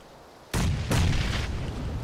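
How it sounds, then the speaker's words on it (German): Two grenade explosions in PUBG burst in quick succession, loud and close, each a sudden broadband crack followed by lingering rumble. "die schmeißen jetzt auch Granaten nochmal von wo"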